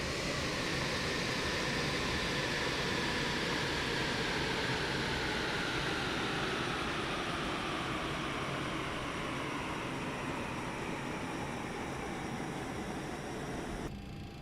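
Boeing 707 jet engines spool down after shutdown, a steady roaring rush with a whine that slowly falls in pitch over about fourteen seconds, loud and close.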